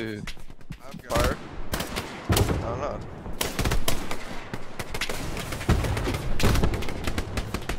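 Dense World War II gunfire from Hell Let Loose, with bursts of machine-gun fire and single rifle shots crackling in rapid, uneven clusters. A voice talks now and then between and over the shooting.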